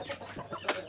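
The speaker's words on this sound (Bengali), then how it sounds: "এটা অনেক বড় মুরগা, ব্ল্যাক কালার" A large black rooster gives a few short, close clucks in under a second, soft and fairly quiet against light background noise.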